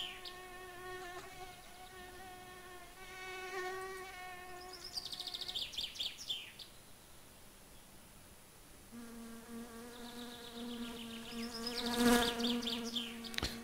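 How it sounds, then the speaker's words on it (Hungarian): Flies buzz in the My Summer Car video game, a thin droning whine that swoops and shifts in pitch, coming and going in passes against a quiet background. "Zugnak a legyek."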